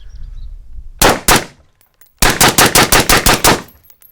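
A suppressed Steyr AUG A3 rifle fires two quick shots, then after a pause a rapid run of about eight sharp, loud reports in evenly spaced pairs, close and without talk.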